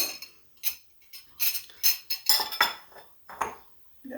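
Ceramic bowls clink and knock on a kitchen counter while a rhubarb cake is being mixed, giving a quick run of sharp, close rattles and taps with short gaps.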